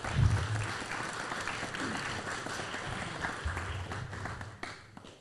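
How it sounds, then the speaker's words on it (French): A meetup audience in Paris applauds a speaker with continuous, even clapping that fills the room, a faint voice briefly audible at the start before the clapping tapers off near the end. "on applaudit Claire"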